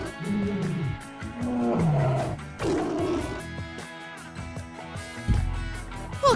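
Big cat roars and growls sound in several drawn-out bursts, loud and close, mixed with other rumbling and clattering noises, no speech.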